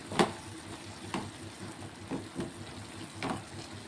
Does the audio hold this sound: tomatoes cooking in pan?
yes